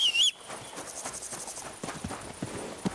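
Horse hooves clip-clopping in the video game Kingdom Come: Deliverance II, a string of soft, moderately close hoof steps with crickets chirping in the background after a brief high-pitched tone at the start.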